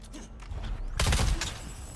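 A single heavy shotgun blast from the game Dune, sudden and loud midway through the clip, following a quieter stretch of ambient game sound.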